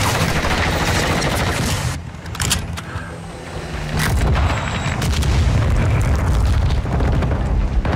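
A bomb drone exploding in the video game Call of Duty Modern Warfare 2, a heavy booming blast with a sharp dip in sound before the rumble swells back up and rolls on loudly.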